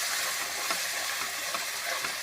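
Tomatoes being stirred and mashed with spices in a hot pan for palak paneer, a steady close sizzle with soft scraping and squelching strokes, no talk.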